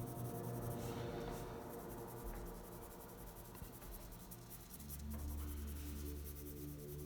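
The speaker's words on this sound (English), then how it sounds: "you can just start adding values with your pencil" Graphite pencil shading values on paper for a cloud drawing, a steady soft scratchy rubbing that continues throughout at close range with slight swells in intensity.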